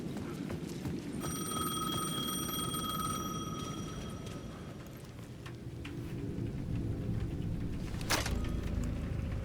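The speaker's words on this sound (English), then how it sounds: "The payphone at the edge of the plaza was ringing again." A payphone in the video game Alan Wake II rings with a steady electronic bell tone for a few seconds over a constant rumble of rain-like ambient noise.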